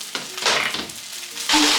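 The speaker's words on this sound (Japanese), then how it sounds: "まあこう混ぜて、こう混ぜて、鍋振らない、お米を傷つけてない。" Rice stir-fried with chashu pork and green onion in a pan, sizzling in short bursts as it is stirred, close and fairly loud, no talk.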